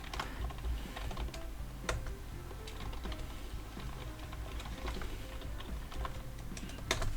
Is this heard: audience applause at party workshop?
no